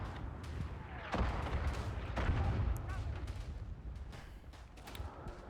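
Gunfire in the World War I shooter Verdun: scattered distant rifle cracks and heavier booms rumble across a battlefield at moderate volume, with a couple of sharper nearby shots.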